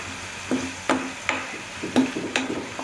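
Masala with coriander and curry leaves being stirred in a pan for pasta, a low sizzle under regular spoon strikes and scrapes, about six distinct clanks spread evenly across the stretch.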